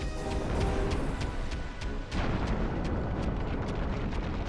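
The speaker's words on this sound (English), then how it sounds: "You make it charge into a rock until it tires itself out" The Pandemonium boss in Final Fantasy XII slams into a rock, a broad crashing rumble that swells and dips around the two-second mark, overlaid with a string of sharp rhythmic impacts in a loud, sustained battle din.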